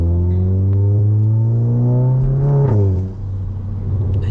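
A stage 2 remapped VW Golf MK7.5 GTI holds a loud, steady engine drone that rises slightly, then drops off with a brief crackling burble before settling into a lower rumble.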